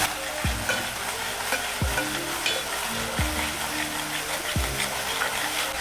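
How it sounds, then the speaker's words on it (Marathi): Malvani masala paste for a pomfret curry cooks in hot oil with a steady, loud sizzle, broken by four evenly spaced scraping stirs of a spoon against the pan. "वाटणला मस्तपैकी चार ते पाच मिनिट आपल्याला शिजवून घ्यायचं आहे"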